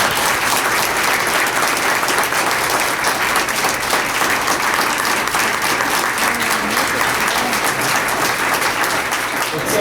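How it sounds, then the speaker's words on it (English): Audience applause at an award ceremony, a loud, dense and steady round of clapping from many hands that fills the whole stretch without letting up. "a loud round of applause"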